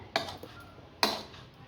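A spoon clinks against a bowl while masala corn is mixed, two distinct sharp metallic taps roughly a second apart with faint scraping between, close and clear.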